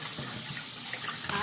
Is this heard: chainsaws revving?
no